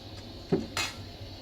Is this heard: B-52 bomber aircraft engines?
no